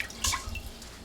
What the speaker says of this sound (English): you add a little bit more water